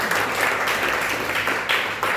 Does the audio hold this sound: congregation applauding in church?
yes